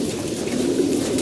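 Many pigeons coo together in a low, continuous murmuring drone, close and steady with no voices over it.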